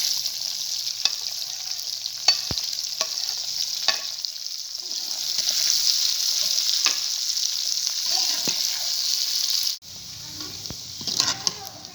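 Onions fry in a pan of hot oil for a bitter gourd curry, a steady close sizzle broken by sharp clicks of stirring, dipping briefly near the end before resuming.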